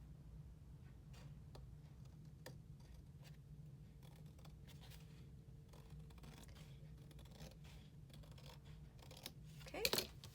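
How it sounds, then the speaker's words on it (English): Scissors or a trimmer cut a paper page for a handmade mini album, with sparse quiet snips and taps scattered over a low hum and a brief louder rustle near the end. "it looks like I'm going to have to trim that page too"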